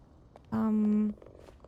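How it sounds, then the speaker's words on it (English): A cat in PowerWash Simulator 2 gameplay gives a loud, steady, tonal purr lasting about half a second, standing out sharply against a quiet background with faint sounds before and after. "Cats are so loud."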